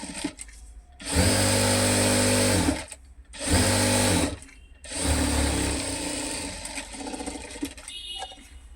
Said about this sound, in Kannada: ಇವಾಗ ಈ ಕಡೆನೂ ಒಂದು ಸ್ಟಿಚ್ ಹಾಕೊಳ್ಳೋಣ